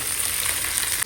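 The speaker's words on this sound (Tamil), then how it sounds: "இந்த வெங்காயத்தையும் நம்ம வந்து நல்லா கோல்டன் ப்ரௌன் வதக்கிக்கலாம்" Onions sautéing in a pan until golden brown, a dense hissing sizzle that stays loud and even for a brief moment, with no voices over it.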